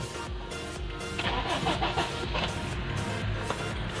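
A second-generation Honda CR-V engine with low power, hesitation and misfire cranks and catches, turning over with a rough, rhythmic chug before settling into a running idle.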